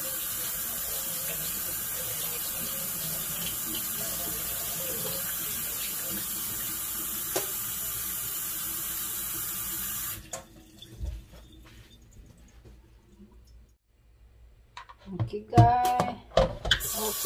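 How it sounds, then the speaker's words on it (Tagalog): Raw chicken is washed under a running kitchen tap, a steady close rush of water that stops partway through, followed by quieter splashes, drips and handling noises, with a voice briefly heard. "When you wash the chicken,"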